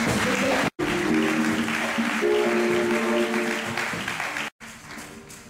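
A church congregation applauding together during worship, a steady broad wash of clapping mixed with voices and singing that runs on, breaks off briefly twice, and carries on more softly at the end.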